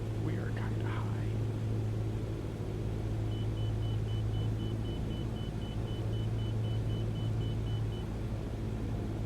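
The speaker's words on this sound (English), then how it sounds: "Okay, throttle's down to an idle now." Steady low aircraft engine drone from a plane in Microsoft Flight Simulator during a landing approach in Svalbard, throttled back to idle; a constant hum fills the clip with faint background whispering.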